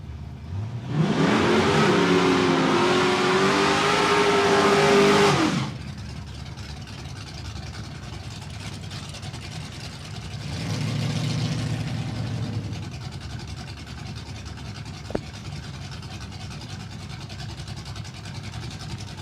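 A drag racing car launches hard down the track at Palmyra Raceway, a loud engine roar lasting several seconds, followed by a fainter second pass and quieter engine noise.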